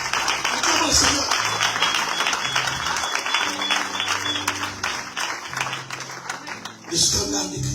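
A church congregation applauds the Lord, a sustained wash of clapping from a crowd with a low musical drone beneath, swelling again near the end.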